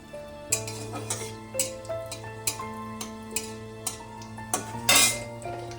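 Black mustard seeds and dried red chillies go into a pan of hot oil for a tamarind hilsa curry, giving a string of sharp metallic clinks and small popping bursts over a faint steady background, close and fairly quiet.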